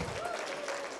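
A church congregation claps in praise during a French-language worship service, a steady short burst of dense applause with a faint sustained tone running through it.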